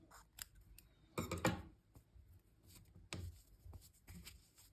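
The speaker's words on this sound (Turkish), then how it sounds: "Geri kalan kısmını da kesiyorum." Scissors snip through amigurumi crochet material in several crisp close cuts, with two louder bursts of cutting separated by quieter rustling and handling, and no voices.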